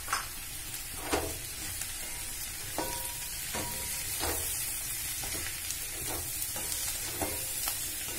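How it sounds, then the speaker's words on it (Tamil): Sliced mushrooms sauté in a hot pan with a steady sizzle, punctuated by repeated scraping stirs of a spatula, close and continuous. "ஒரு நிமிஷம் நல்லா வதங்கினா போதுமானது."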